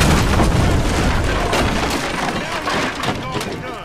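A gas can explodes during a GTA 5 gunfight, a loud booming blast with breaking debris that stays dense and roaring for several seconds, with voices under it.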